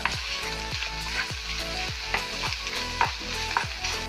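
Eggs fry in a pan with a steady close sizzle, cut by about eight evenly spaced scraping strokes of a spatula, for a leftover-dosa dish.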